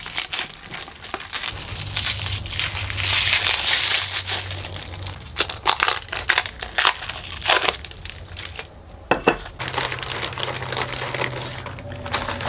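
Plastic parts bags for a Creality Ender 3 V2 3D printer are torn open and crinkled, with continuous rustling and crackling, bursts of sharp tearing and a low hum underneath, close and fairly loud.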